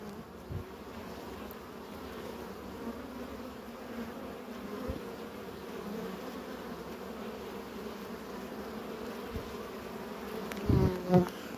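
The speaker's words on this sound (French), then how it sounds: "Il y a du frelon de partout" Hornets buzz steadily around beehives outdoors, making a continuous insect hum with a few brief knocks and a louder burst near the end.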